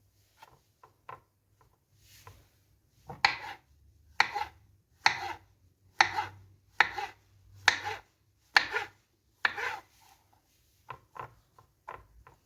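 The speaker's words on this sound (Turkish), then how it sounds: "Önce mantarı şöyle doğrayayım." A knife chops steadily through mushrooms on a board, about ten crisp, evenly spaced thuds, close and clear, with a few lighter taps before and after.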